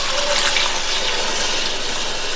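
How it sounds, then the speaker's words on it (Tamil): About half a cup of water goes into a cooking pan holding sautéed cauliflower, a steady, close rushing pour that runs without pause, with no voices. "1/2 கப் அளவுக்கு நான் தண்ணி சேர்த்துருக்கேன்."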